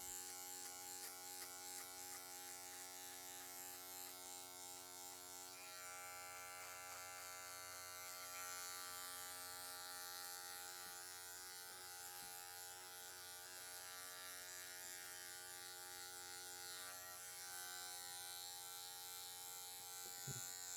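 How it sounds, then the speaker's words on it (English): An electric hair clipper cutting a fade during a haircut and beard trim, giving a steady, close, tonal motor buzz that runs throughout with small shifts in pitch as it moves through the hair. "Okay, half guard now, all the way closed. Slowly ushering up this fade into that clipper over comb work we did."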